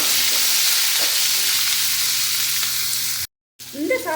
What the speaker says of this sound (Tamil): இப்போ இது எல்லாத்தையும் நல்லா ஃப்ரை பண்ணுங்கள்